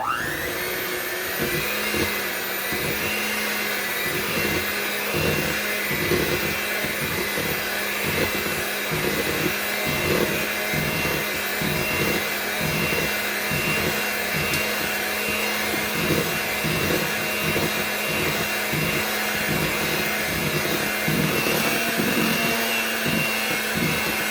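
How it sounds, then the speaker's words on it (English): An electric beater whirs steadily and loudly while mixing cold mascarpone cheese for an eggless tiramisu filling, its motor drone carrying a rapid rhythmic scraping as the beaters work through the bowl, with no talking. "I'm going to use my electric beater to mix this"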